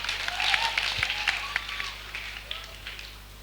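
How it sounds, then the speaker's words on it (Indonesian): Applause from a student audience for the Forestry Fellowship group at a forestry faculty orientation event, a fairly faint, scattered clapping wash lasting a few seconds, with a voice briefly heard over it. "Tepuk tangan sekali lagi yang meriah untuk Forestry Fellowship."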